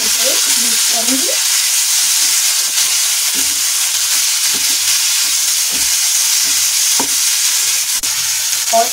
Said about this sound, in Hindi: इस मसाले को मैं अच्छे से भून लूंगी